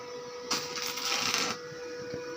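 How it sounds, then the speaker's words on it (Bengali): Welding work on the metal frame of an arena light in a fabrication workshop: a steady harsh hiss lasting about a second over a constant background hum and a faint tone, with no speech. "এখন ওয়েল্ডিং এর কাজ চলছে"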